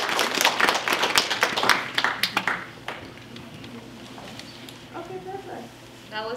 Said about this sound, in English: Can we give her another round of applause, please?